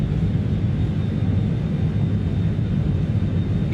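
Steady, loud BAE 146 airliner engine drone in flight in Microsoft Flight Simulator 2020, a continuous low rumble with a faint high whine, unbroken and close throughout.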